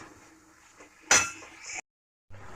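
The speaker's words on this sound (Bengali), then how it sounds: "এবার ভালো করে কষিয়ে ডিমটাকে ফাটিয়ে দিয়ে দেবো" A sharp clink as an egg shell is cracked against a pan of dal tarka, a single bright impact with a brief rattle, then a short silence before faint kitchen noise returns.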